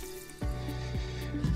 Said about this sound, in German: Ich gebe mal hier das Wasser hinzu.